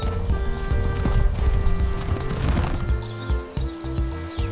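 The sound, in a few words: horse running, hooves clip-clopping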